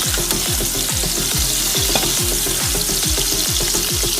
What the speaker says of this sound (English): In another pan, we fry the onion with cheese.